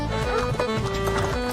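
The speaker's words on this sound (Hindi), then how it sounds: "घोड़ा भागने लगा तो गेंदा डर गया।" A horse pulling a cart clip-clops at a quick, even trot, with a narrator's voice talking over it.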